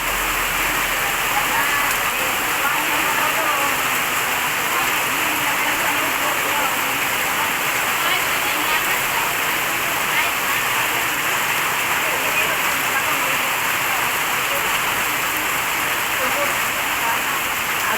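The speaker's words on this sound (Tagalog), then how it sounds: "Ang lakas ng ulan." Heavy rain pours down in a steady, dense roar that stays loud and unbroken throughout, filling the scene without pause.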